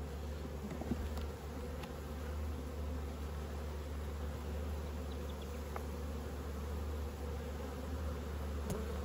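Honeybees hum in a steady, faint drone during a spring hive inspection while a honey super is added, a continuous buzz with occasional closer passes and no talking.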